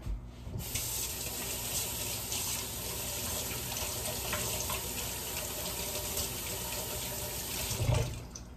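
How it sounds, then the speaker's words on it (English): A kitchen sink tap runs steadily while hands are washed beneath it, a close, continuous rushing stream with a brief splash near the end. "Wash my hands again."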